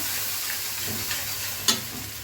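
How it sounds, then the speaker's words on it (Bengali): Garlic paste sautéing in a pan for a winter vegetable and rohu fish curry, a dense even sizzle close by with one brief sharp clink of a utensil. "সামান্য পরিমাণে হাফ চামচের মতন রসুন বাটা দিয়ে দিব একটু কষিয়ে নেব"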